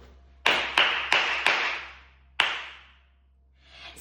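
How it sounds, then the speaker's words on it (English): Five sharp, loud hand claps ring out close by, four in quick succession then a pause before a fifth, each with a short room echo, followed by a softer rustle. "try to count the number of times I clap"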